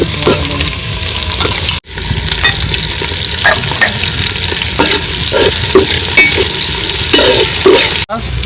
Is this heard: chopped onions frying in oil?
yes